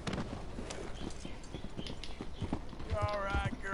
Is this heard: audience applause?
no